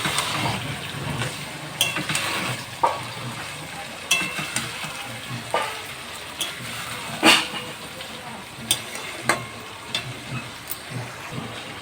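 Marinated spicy chicken sizzles steadily in a hot pan while a spoon stirs it, scraping and clanking against the pan every second or so above a constant frying hiss.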